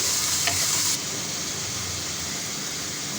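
Ginger, garlic and green chili paste roasts in a pan: a steady close sizzle with stirring scrapes in the first second, then continuous frying hiss, with no talking.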